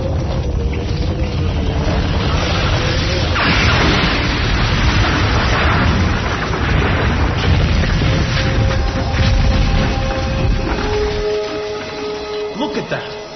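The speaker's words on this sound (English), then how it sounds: "We're going to blast through." An explosion blasts through rock toward the surface in an audio drama, a sustained loud roaring rumble with booming bursts that fades near the end, voices faintly mixed underneath.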